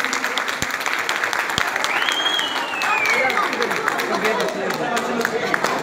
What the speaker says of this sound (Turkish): Güzel bir alkış gönderiyoruz.